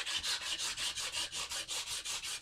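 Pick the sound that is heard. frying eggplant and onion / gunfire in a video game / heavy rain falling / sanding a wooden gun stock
sanding a wooden gun stock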